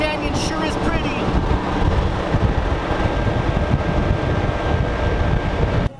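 A Humvee climbs a steep canyon with a loud, constant engine roar and rumble, mixed with wind buffeting the microphone, persisting throughout with no gaps.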